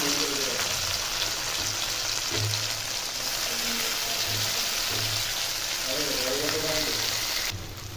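Chopped tomatoes and chilies fry in a hot pan, giving a continuous, even sizzle that fills the whole stretch, with a faint voice murmuring underneath.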